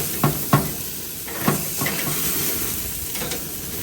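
Ribeye steaks sizzling over very high heat on a fire, a steady low hiss with a few sharp pops and taps from cookware near the start.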